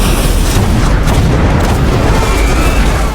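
A giant Ottoman siege cannon, the Basilica, fires a heavy booming blast that fills the whole stretch with dense low-end rumble, loud and sustained, with no voices.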